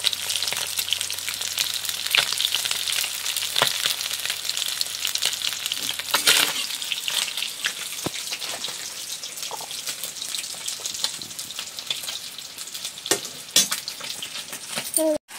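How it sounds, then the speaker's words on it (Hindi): Fish frying in oil in a pan in a home kitchen, a dense, continuous sizzle and crackle with occasional spatters and clinks, close and steady throughout with no clear talk. "देखिए मछली को फ्राई कर रही है अभी। फ्राई हो रहा है अभी"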